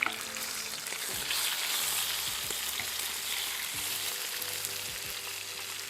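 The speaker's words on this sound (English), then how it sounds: "burning my butter." Butter sizzling and starting to burn in an overly hot pan, a steady close crackling hiss with small scattered pops and light utensil scrapes.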